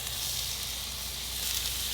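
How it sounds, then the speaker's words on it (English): Onion searing in a little oil on a soapstone slab set in a Kamado Joe grill, a steady close hiss with a faint low hum beneath, even and unbroken. "I'm going to put just a little bit of oil directly on the soapstone"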